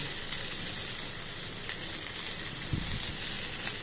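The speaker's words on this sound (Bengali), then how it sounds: "তেল দিয়ে আমার এই যা পেঁয়াজ, একটা পেঁয়াজের অর্ধেক পেঁয়াজ আমি ভেজে নেব" Half an onion fries in a little oil for a jackfruit dish, a steady, dense sizzle and hiss close by, with an occasional soft stir and no talking.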